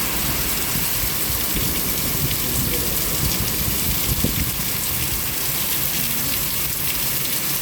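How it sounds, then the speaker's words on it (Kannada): Heavy rain pours down steadily in Ranebennur, Haveri, a dense, loud hiss of drops hitting surfaces that continues unbroken throughout. "ಬರೋಬ್ಬರಿ ಮಳೆ ಹೊಡೆಯತೈತಿ."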